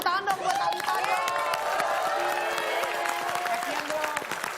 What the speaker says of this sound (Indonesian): Boleh kita tepuk tangan dong buat Thalita dong.